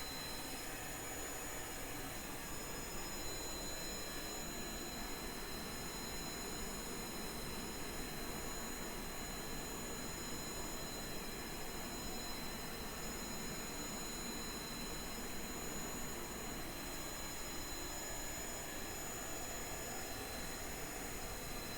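A plane-like engine on a newly invented flying machine roars steadily and loud for the whole stretch, a constant jet-style whine with no voices over it.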